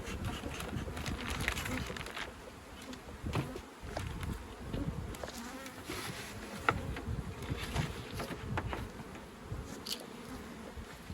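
Honey bees buzz steadily around an open hive while combs are expanded with foundation in spring orchard bloom, a dense continuous drone with scattered clicks and handling noises of frames throughout.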